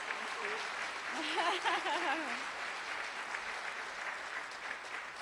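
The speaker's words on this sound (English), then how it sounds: "That deserves a round of applause" Crowd applause at a casino event fills the space as a steady, moderately loud wash of clapping, with a voice or sung tones briefly rising over it early on.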